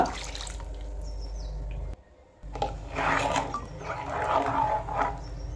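Water is poured into ground fish curry masala in a pan, a close, steady splashing trickle with brief dripping, broken by a short pause midway before the pouring resumes.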